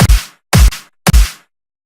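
Three punchy programmed drum hits made in FL Studio, each a deep kick layered with a clap, land evenly about half a second apart, loud and dry with silence between.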